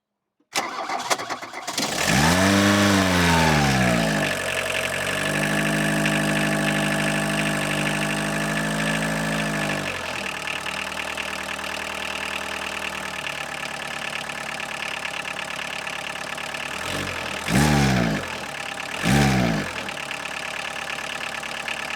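A 40-year-old VW Golf engine, fresh from a timing belt change, cranks and catches, then settles into a loud, steady close-up idle with a rough mechanical clatter, followed by two brief revs near the end.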